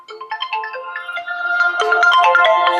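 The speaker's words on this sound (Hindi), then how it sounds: "इसका फोन आ गया" A melodic electronic phone ringtone plays a repeating tune, building slightly in loudness, with no talking.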